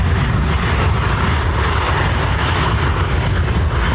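A Hong Kong Airlines cargo jet departs Dublin Airport on a Christmas Saturday, its engines giving off a steady, loud, broadband roar that carries through with no voices.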